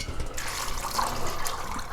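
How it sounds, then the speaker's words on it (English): Water poured from close by into a Dutch oven over rinsed beans, a soft continuous splashing and trickling fill lasting a couple of seconds. "Now I'm going to add enough water"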